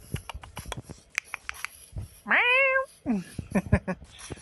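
A cat meows in a Minecraft game, giving one clear rising and falling meow and then a shorter one. Soft clicks and light game noises sound around it, and there is no talk.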